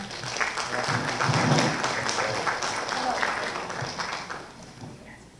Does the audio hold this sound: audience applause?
yes